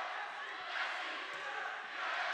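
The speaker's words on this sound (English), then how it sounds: "I like to see the enthusiasm of the crowds, though." A crowd at a high school volleyball section final keeps up a dense, continuous roar of cheering and shouting that swells slightly in the middle.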